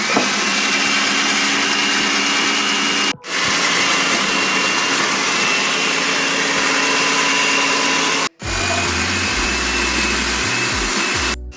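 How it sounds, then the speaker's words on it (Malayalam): A motorized onion chopper gadget whirs steadily while chopping onions, a loud continuous buzzing drone that cuts out briefly twice before starting up again. "സവോള അരിയാൻ വേണ്ടിയിട്ട് ഇങ്ങനെ ഒരു സാധനമുണ്ട്"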